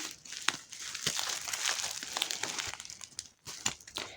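Crinkly paper packaging is pulled away from a small potted Venus flytrap. The close, quiet crackles and rustles come in irregular bursts with brief pauses, and no voices are heard.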